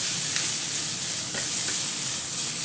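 Bacon sizzling and frying in a pan, a dense, continuous crackling hiss at close range, steady throughout with faint stirring ticks and no voices.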